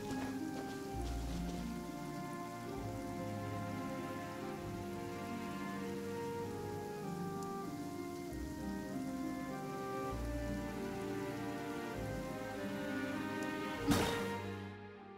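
Heavy rain pours steadily in Genshin Impact's Fontaine region, a dense, even hiss with pattering drops that runs unbroken for the whole stretch, with a brief sharper burst near the end.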